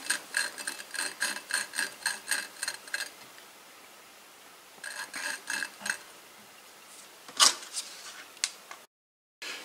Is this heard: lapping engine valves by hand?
yes